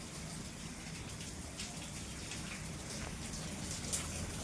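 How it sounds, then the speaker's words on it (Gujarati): Very heavy rain during an eight-to-nine-inch downpour, a steady close hiss of water falling and splashing on surfaces, continuous and fairly faint, with a few sharper drips near the end and no voices. "એટલે માનો કે આજ 8 થી 9 ઇંચ વરસાદ આપણે ખાબકી જ ગયો છે"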